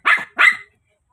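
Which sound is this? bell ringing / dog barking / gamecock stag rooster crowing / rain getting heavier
dog barking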